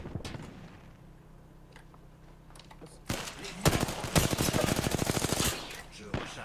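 Rapid automatic gunfire from a multiplayer Apex Legends match, loud sustained bursts after a quieter stretch, with a player's voice briefly underneath.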